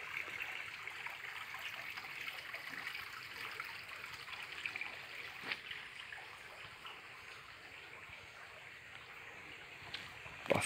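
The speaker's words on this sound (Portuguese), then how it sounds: "O que conserva a natureza do lugar é a água" Clear, pure water flows steadily through a stream on a country estate in Governador Edison Lobão, Maranhão, amid açaí and buriti palms, a soft continuous trickle and gurgle with no voices.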